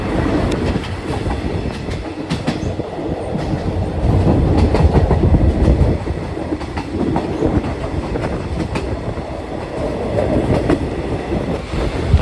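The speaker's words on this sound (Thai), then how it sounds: "นี้เราก็ได้ทำการเคลื่อนผ่านสถานีรถไฟผาเสด็จแล้วนะครับ" Express train no. 141 rolls through Pha Sadet railway station at night, steady rhythmic clickety-clack of wheels on rails, loud and close, rumbling continuously for the whole stretch with no voices.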